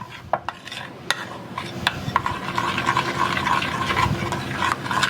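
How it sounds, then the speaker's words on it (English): Melted butter being stirred into chocolate in a bowl, with a continuous close rubbing and scraping of a utensil and a few sharp taps against the bowl, without any talk. "now I'm going to just stir that all good until all of that butter"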